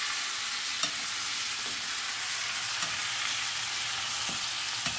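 Eggplant chili paste, Telugu vankaya karam, frying in a pan: a soft, even sizzle hisses throughout, with a few light stirring taps spaced across the few seconds and no talk.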